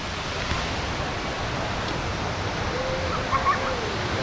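A steady, loud roar of falling water fills the whole clip, constant and unbroken, from nearby Sarika Waterfall in Nakhon Nayok, Thailand.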